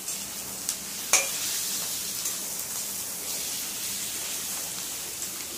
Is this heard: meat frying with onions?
yes